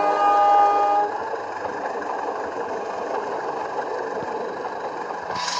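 Joglosemar Kerto passenger train running steadily as it slows for a curve near Purwokerto, a continuous close rumble of wheels and carriage with a brief louder tonal horn-like whine at the start.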